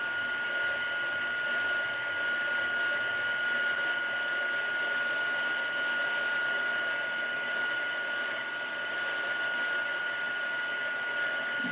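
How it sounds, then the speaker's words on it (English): An electric heat tool blows a steady, even whoosh with a faint whine as it melts embossing powder, running continuously without pause. "I'm not getting my heat tool right next to it because I don't want that to be a tray full of melted"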